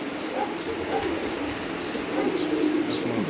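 Pigeons coo repeatedly on a rooftop loft where a fancier keeps his birds, soft low murmuring calls rising and falling close by against a steady background hum.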